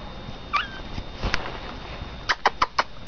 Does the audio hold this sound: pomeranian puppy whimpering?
yes